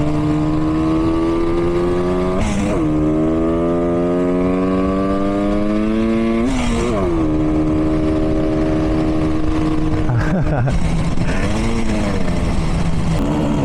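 A 1967 Yamaha YR1 motorcycle engine climbs uphill, loud and close throughout, revving up through the gears with rising pitch and brief dips at each shift.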